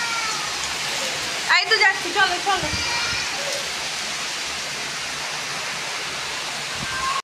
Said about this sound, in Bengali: ঝড়ের সাথে বৃষ্টি হচ্ছে, মুষলধারের বৃষ্টি, তার সাথে ঝড়।